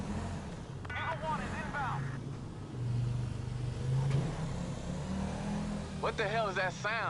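A car engine revving and accelerating in the video game GTA V, a mid-pitched rough engine drone that rises and falls under bursts of talking, with the revs climbing in sweeping surges.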